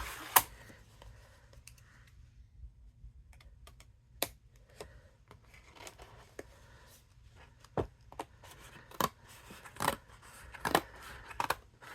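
Paper being cut with scissors while making a chamfered gift box from a craft kit, heard as a string of sharp, close snips and clicks spread irregularly across a quiet background, with denser bursts toward the end.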